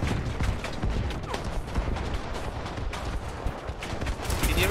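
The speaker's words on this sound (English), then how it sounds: "Got the machine gun." Sustained heavy gunfire from a machine gun in the War Thunder video game, a dense continuous barrage of rapid shots with battle noise throughout, loud and unbroken.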